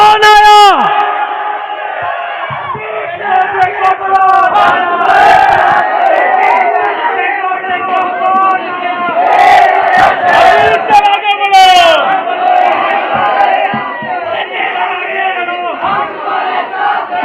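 A large crowd at a political public rally chants a religious slogan in unison. Loud, repeated call-and-response shouts fill the space, with voices swelling together in waves close to the microphone.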